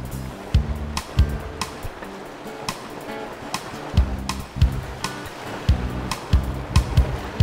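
River rapids on the Race Course stretch in north central New Mexico, heard from a raft: rushing, splashing water with rhythmic slaps and knocks against the boat, close and fairly loud, with no talk.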